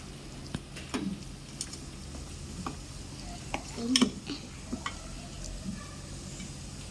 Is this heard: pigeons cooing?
no